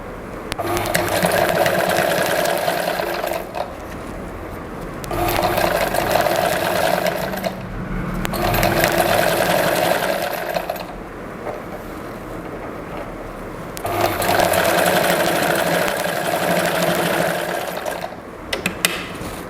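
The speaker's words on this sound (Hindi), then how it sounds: "मैंने इस कोने तक स्टिच कर लिया है" Sewing machine stitches piping onto a Sabyasachi-style blouse: three long runs of fast, even mechanical whirring, close and loud, separated by short pauses.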